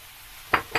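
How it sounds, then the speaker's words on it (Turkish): Peppers and onions being sautéed in a pan: two quick scraping, clinking stirs close up over a faint, quiet sizzle. "Biraz biberlerle de soteleyeceğiz"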